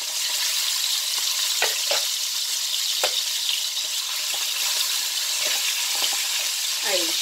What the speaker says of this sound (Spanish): Va a salpicar un poco, pero es para que selle un poco nuestro pollo. Por la parte de la piel.